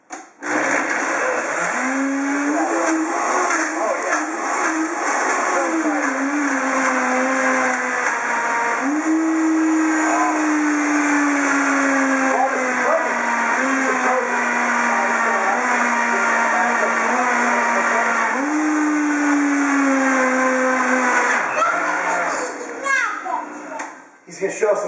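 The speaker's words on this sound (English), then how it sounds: "put my banana in the blender." A 2-horsepower Vitamix blender whirs through a banana shake, a loud continuous motor roar with its pitch rising and shifting in several surges over about twenty seconds, with a voice talking over it.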